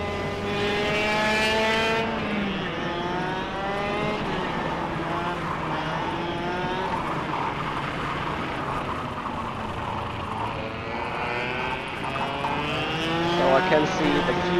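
Go-kart engines racing in the KartKraft video game, a continuous buzzing engine note whose pitch climbs and falls through the laps, with a voice talking over it.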